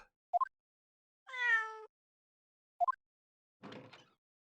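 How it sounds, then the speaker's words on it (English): A cat in the video game The Great Ace Attorney Chronicles lets out a drawn, tonal meow, set among short chirpy game blips and a brief scratchy rustle. "Oh, it's the cat from before."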